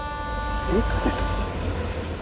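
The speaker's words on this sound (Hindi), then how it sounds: "ये तो ट्रेन की आवाज है।" A train rumbles steadily nearby, with a sustained horn-like tone ringing over the low mechanical roar.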